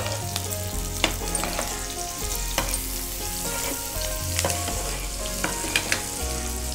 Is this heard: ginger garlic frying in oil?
yes